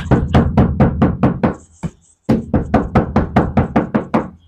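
Rapid rounds of hollow knocking on the thin, tinny ceiling panel of a Hyundai Starex van, about six quick raps, a short pause, then another fast run of knocks, close and loud.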